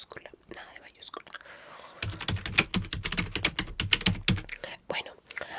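Close computer keyboard typing in a hotel reception roleplay, a quiet patter of key clicks that turns into a dense fast run of keystrokes, near and soft with faint whispery mouth sounds.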